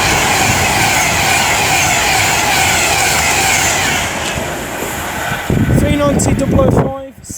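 A Pendolino train roars steadily through a station at Lichfield Trent Valley, a loud, close, continuous rush that fades after a few seconds as a voice speaks.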